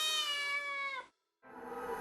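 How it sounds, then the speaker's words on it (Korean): A domestic cat in a home with many cats gives one long, clear meow lasting about a second. A brief silence follows, then another rougher meow-like cry. "다양한 매력을 뽐내는 18마리의 고양이와 한 달 전 횡단보도에서 구조되어 입양을 기다리고 있는 초원이까지."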